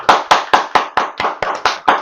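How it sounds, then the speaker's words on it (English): One person on an online meetup call claps alone. About nine crisp, evenly spaced claps come close to the microphone in a steady rhythm, with nothing else heard. "I'm going to ask everybody to give you a round of applause"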